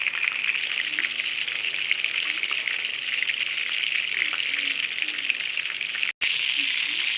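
Köfte meatballs fry in a pan with a steady, close hissing sizzle that carries on without a break, apart from one short cut near the end. No one speaks.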